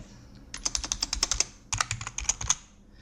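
A computer keyboard tapped out in two quick bursts of keystrokes, close and crisp, with a brief pause between the runs.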